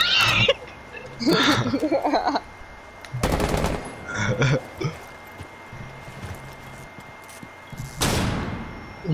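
Gunfire in a video game comes as loud, sharp bursts, several separate shots and short volleys spread through the clip, mixed with players talking.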